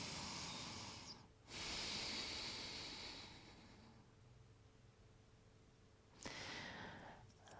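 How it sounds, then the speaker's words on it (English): Slow, deep breaths during a morning yoga pose, each long airy inhale or exhale rising and fading at close range, with a quieter pause between them and another breath starting near the end. "One more deep breath here."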